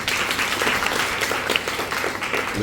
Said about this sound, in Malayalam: നമുക്ക് നല്ലൊരു ക്ലാപ്പ് കൊടുക്കാം